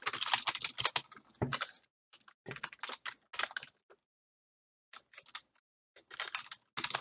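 Typing on a computer keyboard: close, fast clusters of key clicks in bursts separated by short pauses, with no talk.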